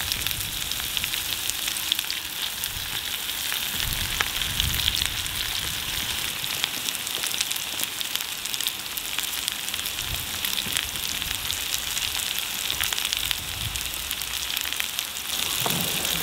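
Onions and jalapeno hot dogs fry on a windproof gas stove outdoors, a steady close sizzle with crackling pops and occasional stirring scrapes, continuous with no talk.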